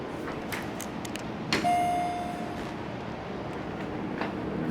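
A single hydraulic elevator bell ding rings out clearly over a steady mechanical hum, a sustained tone that fades after a second or two.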